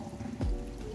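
Running water pours over freshly picked fiddlehead ferns (pakó) during rinsing, a short close splash with a brief low thump partway through.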